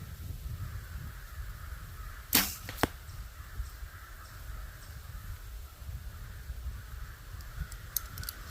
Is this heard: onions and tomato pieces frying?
no